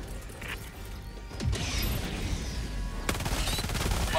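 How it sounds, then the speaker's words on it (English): Gas strike in Helldivers 2, a burst of rapid cracking impacts and a loud blast landing around the player, followed by a second rattling volley of explosions, all alone without talk. "Firing gas strike."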